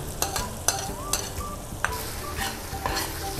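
Garlic fries in hot oil in a pan with a steady crackling sizzle. Scattered sharp taps and scrapes of a utensil against the pan sound close and at moderate level.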